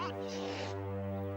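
A cartoon cat in an animated fantasy series gives a short, tonal meow, close and clear, over a steady background.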